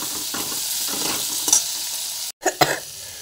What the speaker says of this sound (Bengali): পেঁয়াজ আর টমেটোটা বেশিক্ষণ সময় লাগে না ভাজা হতে